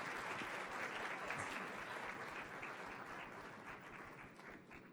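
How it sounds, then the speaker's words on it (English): Applause greets a keynote speaker, a crowd clapping steadily in a wash of dense claps, fairly distant and quiet, fading slightly toward the close. "So if we can give her a big round of applause"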